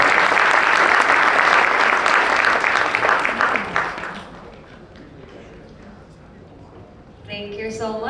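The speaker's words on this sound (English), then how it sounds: "I'd like to ask our round of applause for our panel" Audience applause for a solar energy panel at a utility-scale solar conference in Asia, dense clapping for about four seconds that fades out, then a voice speaks briefly near the end.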